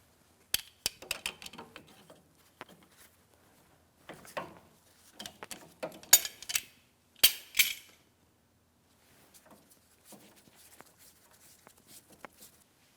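Metallic clicks and light scraping from long pliers turning the inner tie rod counterclockwise off the center link of a 2007-2014 GMC Sierra 2500 HD, heard as sparse, close taps and short scrapes in bursts with quiet gaps between.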